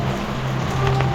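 Steady rain falls on a surface outdoors, a constant close patter that holds at an even level with a low hum underneath and no voices.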